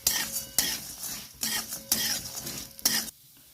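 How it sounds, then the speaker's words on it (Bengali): Maggi noodles frying in hot oil in a pan, bursts of sizzling alternating with scraping and stirring of a utensil against the pan, stopping abruptly near the end. "এর মধ্যে এবার ম্যাগিগুলো দিয়ে লাল লাল করে একটু ভেজে নেব"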